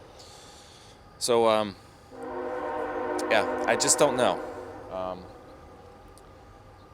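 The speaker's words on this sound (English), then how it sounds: "Train's here, by the way. It's exceptionally loud today." A passing train sounds very loud: a sharp horn-like blast, then a long stretch of rumbling, tonal rail noise with squealing peaks, while someone speaks briefly nearby.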